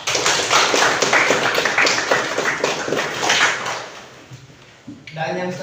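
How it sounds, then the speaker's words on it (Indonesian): Students in an Indonesian classroom clap together after a good answer, a dense burst of many hands that fades over a few seconds before a voice starts talking. "Boleh dikasih tepuk tangan."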